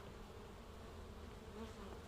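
A bee or wasp buzzes faintly and continuously nearby, a soft steady drone with no talking.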